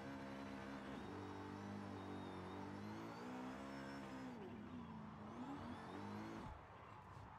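BMW drift car with engine droning and rising in revs, a steady loud motor tone that swells and dips as the e-brake and clutch kick throw it sideways around a Volkswagen Beetle, continuous throughout with no talk.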